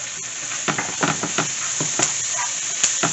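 Red pepper flakes sizzle in a hot frying pan, a steady close hiss broken by repeated scraping strokes as they are stirred.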